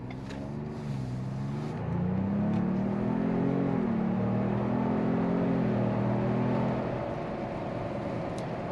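A 2.3-liter turbocharged engine in a 2023 Ford Bronco Outer Banks with Sasquatch Package accelerates: a steady, close engine drone rises in pitch through the middle of the run, then eases back, with no talking.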